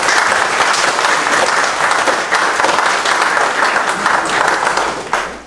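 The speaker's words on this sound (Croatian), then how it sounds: "pa molim jedan pljesak" Steady applause from an audience at the opening of a gallery exhibition of paintings by Slovenian painters, dense and loud clapping that holds for several seconds and then drops away.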